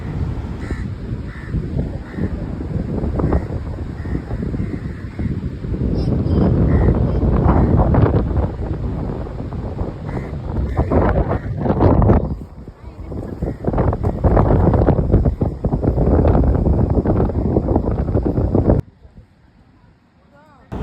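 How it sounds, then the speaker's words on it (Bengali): Strong seaside wind at Guliakhali on a cloudy, rainy monsoon day roars and buffets the microphone in loud, continuous gusts. It eases briefly midway and drops away abruptly near the end. "মেঘলা আকাশ অনেক বাতাস বৃষ্টি সমুদ্র"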